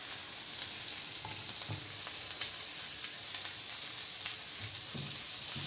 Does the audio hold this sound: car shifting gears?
no